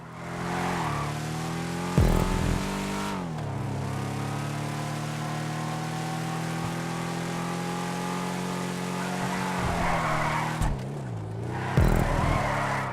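A Declasse Vamos muscle car in Grand Theft Auto 5 drones steadily with a rising and falling engine note, interrupted by sharp bursts of tire skidding and revving near the start and end.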